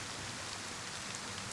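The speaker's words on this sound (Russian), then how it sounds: "Застал меня тут дождь врасплох." Steady rain hisses in a dense, even wash in the video game DayZ, with no gaps or separate drops standing out, just a constant broadband patter filling the scene.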